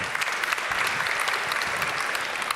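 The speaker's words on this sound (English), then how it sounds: "Give them an applause." Steady, dense applause from a crowd, loud and sustained for the whole stretch with no pauses.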